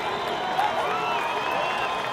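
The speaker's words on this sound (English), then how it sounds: "And the crowd, you can hear, hailing Themba Zwane, who's only recently come back into action." Crowd noise rolls steadily through a football stadium during a Premiership match between Cape Town City FC and Mamelodi Sundowns, a broad distant roar of fans hailing a returning player, with a commentator talking over it.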